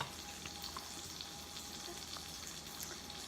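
Sausage frying in a pan on a keto dinner stove, a steady soft crackle and sizzle with faint spits, heard alone at low volume.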